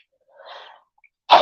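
A quiet breathy intake followed by a sharp, loud sneeze, close by and otherwise silent around it.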